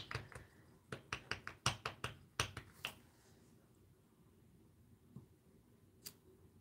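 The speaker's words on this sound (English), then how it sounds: "I'm going to try stamping it right there." A rubber stamp comes down onto paper in a quick series of about ten light, sharp taps over the first three seconds, followed by quiet with a couple of faint isolated knocks.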